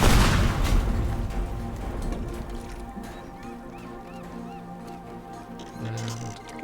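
A loud bomb blast in the video game Teardown, erupting at the start and rolling off into a long rumbling decay, with scattered debris and faint game sounds trailing afterward, no voices.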